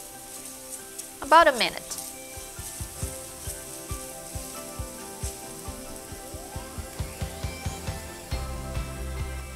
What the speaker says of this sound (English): we're gonna cook the garlic until fragrant